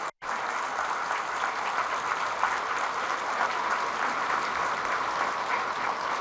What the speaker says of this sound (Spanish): Fuertes aplausos al Rey de Reyes y al Señor de Señores, a Jesús de Nazaret.